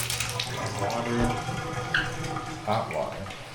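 Water running from a faucet during a vacant apartment unit inspection, a steady faint hiss of flow in a bathroom, with someone speaking briefly over it.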